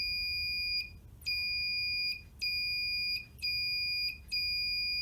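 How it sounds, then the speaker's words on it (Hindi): A buzzer alarm on a homemade soldered PCB object-sensor circuit sounds loud, steady high-pitched tones, about one second each, broken by short gaps four times in a regular on-off rhythm, with no talking. "जैसे ही इसके सामने मैंने हाथ लगाया, अलार्म बजने लगा"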